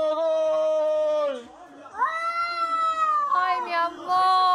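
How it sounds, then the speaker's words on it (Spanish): A cat meows in long, drawn-out, wavering cries, several in a row at close range and fairly loud, with a short dip between calls. "Sí, él estaba maullando."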